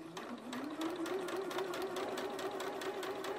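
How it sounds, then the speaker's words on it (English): A sewing machine stitches steadily along the edge of a fabric coffee cup sleeve, its rapid needle rhythm and motor hum running continuously and close. "Again, I'm just sewing right along that edge."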